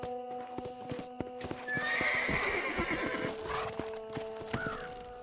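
Horse hooves clip-clopping at a slow walk with a clear neigh partway through, in the video game Red Dead Redemption, set against steady in-game background music.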